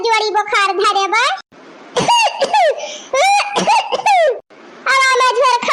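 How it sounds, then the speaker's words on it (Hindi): Harsh coughing fits mixed with laughter-like bursts, several in quick succession, close and loud, with a voice speaking in between. "इतना जोर खांसी आवती बे"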